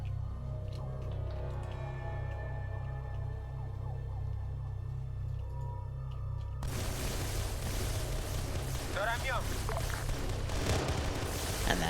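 Gunfire and explosions in the Arma 3 video game with the OPTRE mod, a dense crackling barrage kicking in loudly partway through after a quieter stretch of low rumbling ambience.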